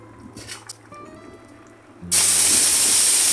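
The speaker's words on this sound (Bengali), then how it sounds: "আমার কড়াই গরম হয়ে গেছে, তেল দিয়ে দিব" Oil hits a hot wok for a Manipuri ooty recipe: after two seconds of quiet kitchen clatter, a sudden loud, bright sizzle erupts and keeps hissing steadily to the end.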